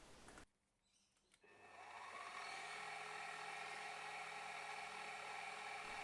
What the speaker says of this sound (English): I'm drilling through both pieces with the tapping size drill